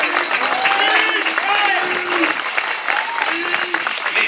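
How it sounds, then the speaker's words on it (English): A crowd applauds at a baseball state championship celebration: steady clapping runs throughout while voices call out and whoop over it. "that guy deserves a big round of applause."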